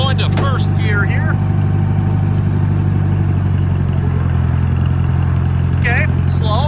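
John Deere 2010 tractor running in first gear, a steady loud engine drone with clattering mechanical noise throughout, and a person talking over it.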